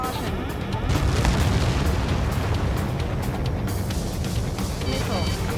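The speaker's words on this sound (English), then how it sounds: "Target confirmed. Dropping the bomb now." A bomb dropped from a jet explodes in the combat flight game Ace Combat 7, a dense, sustained rumbling roar with heavy low-end booms that holds steady throughout, layered over jet and battle noise.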